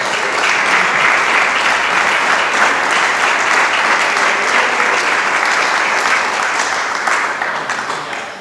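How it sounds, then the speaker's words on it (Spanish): A church congregation claps together in a sustained, dense burst of applause that stays loud and even for about eight seconds, fading slightly at the end with no talking over it. "Dale palmas al Señor."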